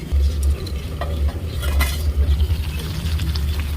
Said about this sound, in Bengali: চিকেনটা আমাদের এবার একটু ভালো করে নাড়াচাড়া দিয়ে একটু কষিয়ে নিতে হবে।